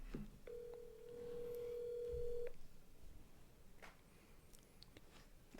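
A telephone rings on an unanswered call, heard as one long, steady ring tone through a phone speaker, followed by quiet room noise with faint clicks and shuffling.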